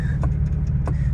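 Steady low engine drone from a lowered Nissan GT-R being driven up a street, with a constant rumble and a couple of brief higher clicks or ticks over the top, heard from inside or close by.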